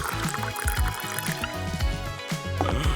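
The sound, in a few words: pouring clear gelatin mixture into a bowl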